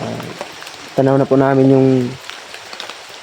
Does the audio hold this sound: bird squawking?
no